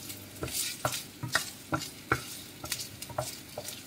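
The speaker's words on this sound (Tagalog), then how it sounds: "let's add the ginger" Ginger stirred in a hot frying pan, with a steady sizzle under repeated sharp scrapes of a utensil against the pan, close and fairly even in rhythm.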